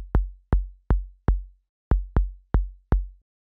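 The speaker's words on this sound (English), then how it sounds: "So this kick is just like a little short kick." Short synthesized kick drum built in Ableton's Operator, eight dry, punchy thumps with quick decay falling in two groups of four at a steady pace, clear and alone.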